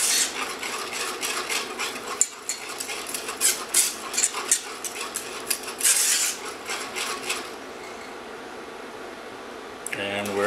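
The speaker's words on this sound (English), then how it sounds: "continue stirring until it actually comes to the boil" A utensil scrapes and clinks rhythmically against a pot as cornstarch-thickened vanilla custard for ek mek is stirred toward the boil, close and brisk for about six seconds, then fading to quiet room tone before a final clatter.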